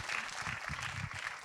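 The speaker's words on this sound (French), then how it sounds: "J'ai entendu des petits applaudissements" Light, scattered applause from an audience at a panel talk on climate equity and women, a soft patter of clapping running steadily at moderate distance for a moment.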